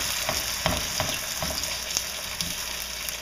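Garlic sizzles steadily in a hot pan, a dense crackling hiss with a few soft stirring taps scattered through it, close and continuous with no talking.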